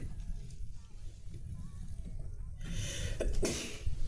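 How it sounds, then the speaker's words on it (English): A single sharp sneeze bursts out near the end after a stretch of quiet, low background noise, close and fairly loud. "I sneezed."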